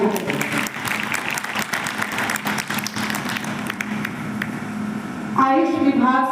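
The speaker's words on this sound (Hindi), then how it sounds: "जोरदार तालियां" Loud audience applause at a district-level college event marking Netaji Subhash Chandra Bose's birth anniversary, continuous crowd clapping that gives way to someone speaking at the end.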